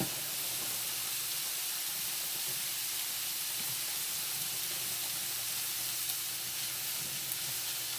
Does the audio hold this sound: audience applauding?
no